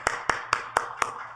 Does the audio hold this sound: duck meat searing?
no